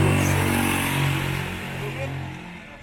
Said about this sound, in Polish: Hałasują tu niektóre motory.